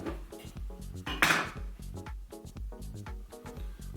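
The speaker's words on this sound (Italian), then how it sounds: "siamo pronti per la prova del taglio." A knife saws through a freshly baked pinzone ferrarese loaf made with lard, giving a soft crackling, scraping burst of crust amid quiet handling noises, faint and close.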